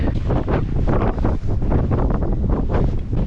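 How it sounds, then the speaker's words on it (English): Strong wind buffets a sandy beach, a loud continuous roar and rumble across the microphone with gusts swelling and dipping throughout, with no talk. "Into the wind like this and on sand"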